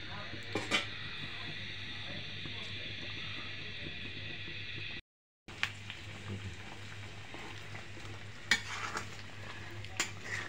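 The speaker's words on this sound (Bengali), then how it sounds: "আমি গরম করে ভালো করে একটু জাল করে নিই।" Beef korma heats and sizzles in a pan while a utensil stirs it, with steady frying hiss and occasional scraping clinks, broken by a brief silence midway.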